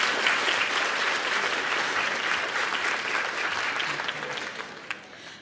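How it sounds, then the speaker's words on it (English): An audience seated at tables claps for honorees at the Coming Of Age Spirit of Service Award Show 2019, steady, full-room applause that holds for several seconds before thinning out at the end. "Please join me in a round of applause for them."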